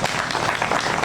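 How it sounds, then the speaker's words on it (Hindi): An audience claps in honour of a guest at a patriotic poetry recital, a short burst of dense, even applause filling the hall. "एक बार इनके सम्मान में तालियां।"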